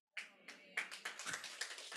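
A small group claps in a church setting, starting with a few single claps and building into a brief, close burst of applause.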